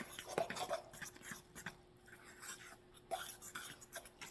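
Flour, salt and water stirred together into tortilla dough, giving soft, uneven scraping and light knocks at close range with no talking.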